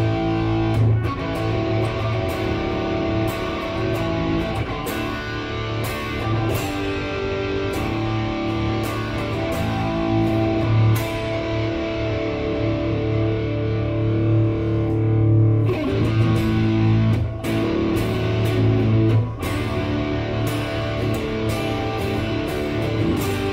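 An SCG Blackhawk electric guitar rings out through heavy distortion, playing sustained chords and riffs with a few brief breaks, loud and alone for over twenty seconds.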